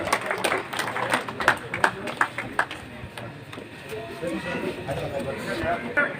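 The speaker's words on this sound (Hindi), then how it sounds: "जोरदार तालियों के साथ देवेंद्र जी का अभिनंदन वंदन स्वागत" A crowd at a BJP campaign rally claps loudly in welcome for candidate Devendra Jhajharia. Dense, uneven applause with sharp individual claps runs throughout, and crowd noise mixes in.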